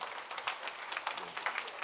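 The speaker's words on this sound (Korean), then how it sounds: "격려와 사랑의 박수 한번 해주시면 좋겠습니다" A church congregation at a Sunday morning worship service claps together, a dense steady patter of many hands heard from a middle distance, fairly soft and brief.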